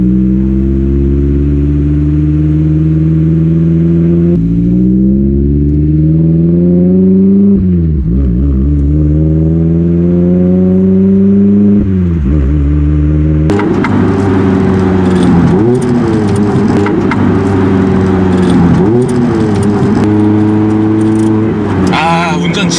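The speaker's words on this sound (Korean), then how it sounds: "배기음 소리 좀 들어보시고" A Mazda MX-5 Miata engine revs repeatedly up and down close by, its tuned exhaust growling, then turns harsher and crackling in the second half.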